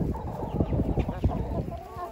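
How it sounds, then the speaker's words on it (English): Big rooster and a flock of backyard chickens clucking continuously, a dense chatter of short close clucks with occasional louder calls, fairly loud and steady throughout. "there's Kiki, the big rooster"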